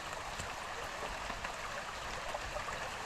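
A clean river fed from Banahaw flows in a steady, faint rushing babble throughout, with no voices over the water.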